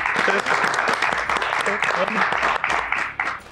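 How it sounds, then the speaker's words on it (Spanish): A studio audience applauds for a football guest, a steady busy patter of hands running through the whole stretch, mixed with some voices. "un aplauso para Gastón"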